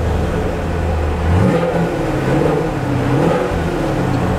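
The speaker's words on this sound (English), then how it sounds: "So I'm gonna rev it up just a little bit for you." A 2017 Chevrolet Camaro SS V8 revs briefly at a car dealership, the engine note climbing from a steady idle into a couple of short, moderate blips before settling back, loud and close.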